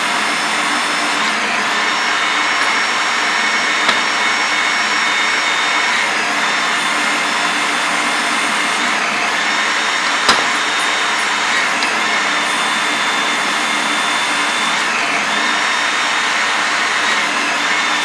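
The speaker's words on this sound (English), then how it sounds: "run this torque wrench" Steady whine of a torque wrench running on a bolt, a Valley Forge SPC4 Model 424A bolt reader setup, holding a continuous high-pitched mechanical hum throughout with one brief click midway, close and loud.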